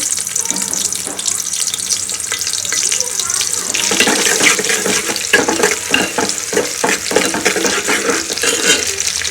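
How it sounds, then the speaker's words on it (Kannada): Chopped onion frying in hot oil for a sambar, a loud close sizzle that grows busier and crackly partway through, with stirring scrapes and no clear talking. "ಎಣ್ಣೆ ಹಾಕ್ಕೊಂಡು ಇವಾಗ 1 ಈರುಳ್ಳಿನ ಕಟ್ ಮಾಡಿ ಹಾಕ್ಕೊತಾ ಇದ್ದೀನಿ."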